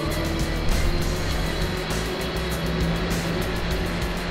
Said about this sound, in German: der LKW rast aber